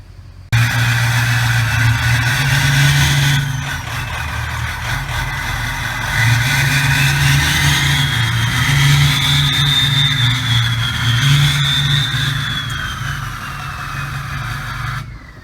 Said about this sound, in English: We're going to crank it over, and we got the ignition switch actually freed up and working